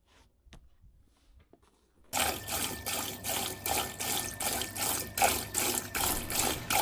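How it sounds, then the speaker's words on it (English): After a quiet start, a pump kicks in and water gushes and splashes steadily in a pulsing rhythm, loud and close, continuing to the end, as a boat's water tank is emptied. "So pumping the last of the water out of our tanks to get it completely empty"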